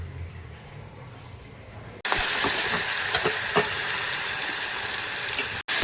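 Stuffed brinjal frying in a pan, a loud dense sizzle that bursts up suddenly and holds steady, with scattered scraping knocks as the pieces are stirred, then a brief cut-off near the end.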